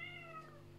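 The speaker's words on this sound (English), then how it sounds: "this cat." A cat gives a single short meow nearby, a faint, slightly drawn-out cry heard alone in a quiet room.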